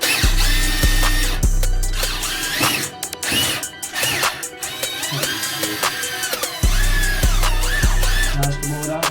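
An SDS hammer drill fitted with a 15 mm bit drills through a house wall for an outside tap, roaring loud and close in long sustained bursts with short pauses and rattling hammer action, with no talking.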